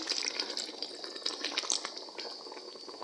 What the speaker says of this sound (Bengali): আর একটু পানি